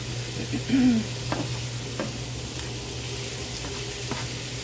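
Food cooks in garlic-flavored Kerrygold butter in a pan, giving a soft continuous sizzle over a low steady hum, with a few light utensil taps and a brief faint squeak early on.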